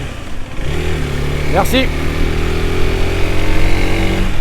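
An FB Mondial HPS 125 Euro 5 motorcycle, still being run in, accelerates to overtake on the road, its engine drone rising steadily in pitch under constant wind rush, while a rider's voice speaks briefly.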